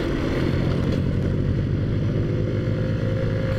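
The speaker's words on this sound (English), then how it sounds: "Oh, that Subaru's got some dual exhaust going on there." A Subaru four-cylinder car with dual exhaust drones steadily at moderate distance, its low throaty exhaust note blending with continuous road and wind noise from a moving motorbike ride.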